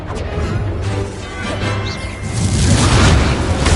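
A Confringo blasting spell explodes in the Hogwarts Legacy video game: a loud, dense roar of crashing booms that dips briefly, then swells even louder toward the end with no pause.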